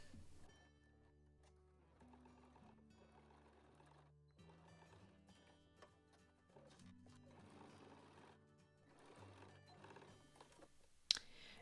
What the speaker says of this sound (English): I'm going to take it to the sewing machine and stitch on those lines.